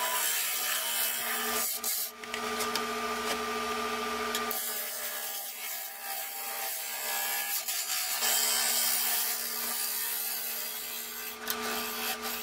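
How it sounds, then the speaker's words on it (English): Sandpaper rubbing against a turned wood bowl spinning on a lathe at about 1050 RPM, its cracks and voids filled, gives a steady close abrasive hiss with a constant motor hum beneath and brief lulls as pressure shifts. "Yes, time for sanding!"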